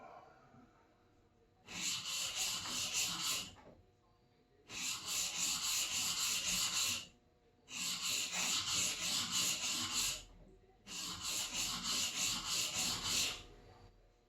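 A plane iron from an old block plane is rubbed across a sharpening stone to raise a burr, four slow, even strokes of gritty, close-up scraping separated by short pauses.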